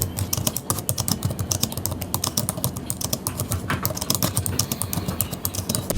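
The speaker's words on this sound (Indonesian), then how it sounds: "Nah kalau dari keyboardnya itu sendiri, gue sih happy-happy aja ya buat ngetik." Someone types on the keyboard of an Infinix Xpad Edge tablet, producing quick, continuous, close-up clicks that are fairly loud and clear with no speech.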